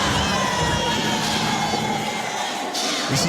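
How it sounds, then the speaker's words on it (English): An energetic crowd at a boxing fight in a packed house, a loud, steady roar of cheering and shouting that holds for the whole stretch, with a brief swell near the end. "This is a packed house, an energetic crowd"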